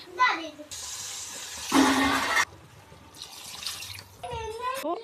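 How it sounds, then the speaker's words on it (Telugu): Water pours in a few short bursts, splashing into a pressure cooker with rice between quiet stretches, with a voice talking around it. "5 గ్లాసులు వాటర్ పోసుకోవాలి"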